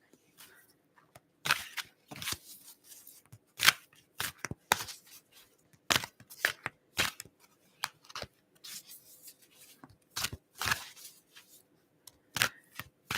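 A tarot deck is shuffled in a series of quick, crisp riffling bursts, close and fairly quiet, separated by short pauses.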